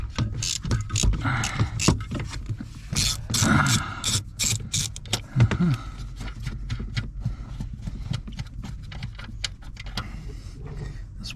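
A ratchet with a swivel clicks in rapid bursts while removing brake booster nuts on a 2000 Lexus RX 300, with metallic clatter and workshop handling noise, close and fairly loud.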